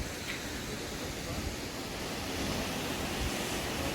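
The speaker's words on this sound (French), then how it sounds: "Petite cascade, petite corniche." Small waterfall in a desert canyon, a steady close rush of falling water forming an even broadband roar throughout, with no talking.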